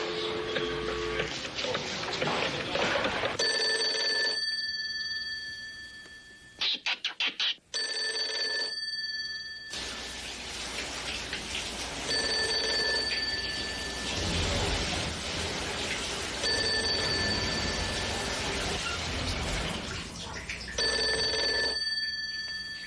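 A telephone rings repeatedly in a tense drama scene, bright electronic trills in regular bursts separated by pauses, fairly loud and near, with some background noise and rustling between rings.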